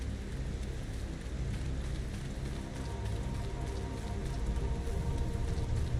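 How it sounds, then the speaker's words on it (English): Steady rainfall in the Final Fantasy XIV game world hisses evenly on surfaces throughout, a dense unbroken patter with a faint low rumble beneath and no voices. "Ah, now it rains."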